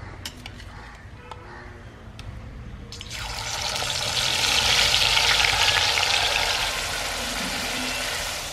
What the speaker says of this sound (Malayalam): നമുക്ക് എണ്ണ ഒഴിച്ചിട്ട് ചെമ്മീൻ ഒന്ന് വറുത്തെടുക്കാം.